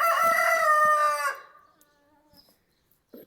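A rooster crows loudly and close, one long harmonic call lasting over a second, then trailing off into near silence with a faint click.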